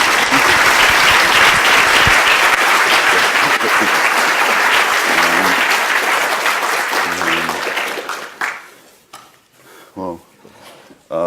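Sustained applause from a lecture audience greeting a speaker at an endowed university lecture, loud and dense for about eight seconds before thinning out into a few scattered claps and quiet shuffling.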